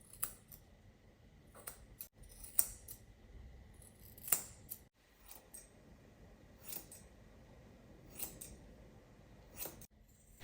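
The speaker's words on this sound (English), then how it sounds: "they're scissored short between the toes to create a tight, compact foot." Grooming scissors trim the fur between a Springer Spaniel's toes on a grooming table: crisp, close snips spaced a second or two apart over a quiet background.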